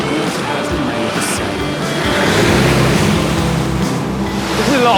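A boat motors across open water off the Welsh coast, with a steady engine rumble mixed with splashing waves and wind buffeting, loud and close throughout.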